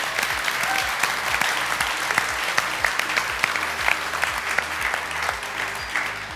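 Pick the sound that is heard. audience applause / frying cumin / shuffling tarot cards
audience applause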